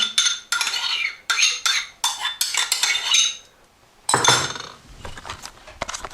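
Metal spoon stirring sour cream and herbs into beef stroganoff in a pan, several close, bright scraping and clinking strokes in bursts with short pauses, then a softer, duller round of stirring.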